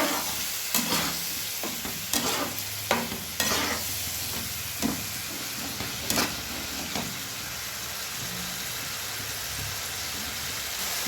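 Cashews added to a spiced masala for egg malaikari sizzle and fry in the pan, with steady hiss and a series of scraping stirs and clinks spread through the clip, no voices.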